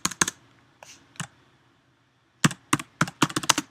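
Keys on a computer keyboard being typed as a title is entered, with a few scattered clicks, a pause, then a quick close burst of clacking keystrokes and no talking.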